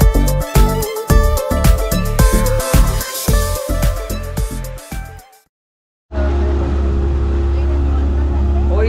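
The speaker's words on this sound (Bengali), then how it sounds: "আবারও আমাদের বোট চলতে লাগলো কালপিত্তি আইল্যান্ডের উদ্দেশ্যে।" Motorboat travelling across open water toward Kalpitty Island in Lakshadweep: a loud, steady engine roar with rhythmic hull thumps. After a brief silence, a lower continuous engine drone follows.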